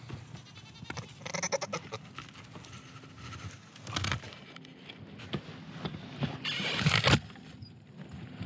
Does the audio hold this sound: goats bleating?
yes